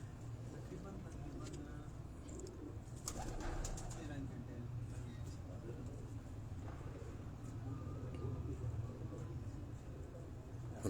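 Low, throaty pigeon cooing rolls on steadily throughout, close by, with a voice talking over it and faint background noise.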